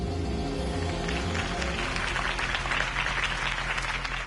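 A large crowd claps and cheers continuously in the video game Batman: The Telltale Series, a dense wash of applause that holds steady and loud throughout.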